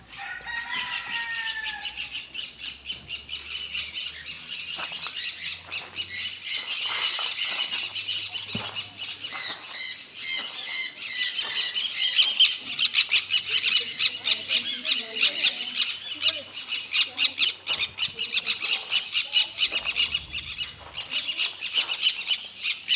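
A bird squawks loudly and repeatedly near a cable car ropeway in Darjeeling in the rain, the shrill calls continuing over a constant hiss of rain and wind.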